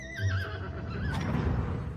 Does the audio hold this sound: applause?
no